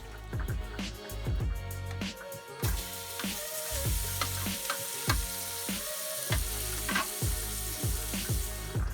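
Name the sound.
andouille sausage frying in a pan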